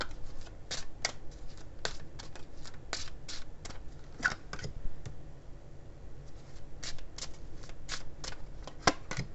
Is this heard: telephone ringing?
no